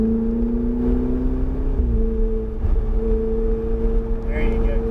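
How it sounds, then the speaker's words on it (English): Car engine droning steadily on a driving course, pitch dipping briefly as it shifts and then holding a strong even tone, loud and close, with a voice giving instructions over it. "Keep accelerating up to the right corner."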